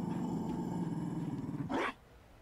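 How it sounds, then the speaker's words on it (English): A Mabari war dog in the video game Dragon Age: Inquisition gives a steady, low, rumbling growl close by. It rises into a short, sharper snarl at the end and then cuts off. "You found a dog."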